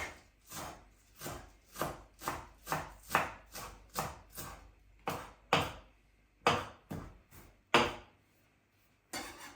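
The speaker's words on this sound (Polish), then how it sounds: "I została mi do pokrojenia natka pietruszki." A knife chops about half a bunch of garden-picked parsley on a board in steady, close, crisp strokes, roughly twenty in quick succession with a few short pauses, and no talking.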